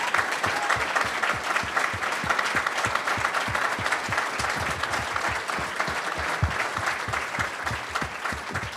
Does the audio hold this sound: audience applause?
yes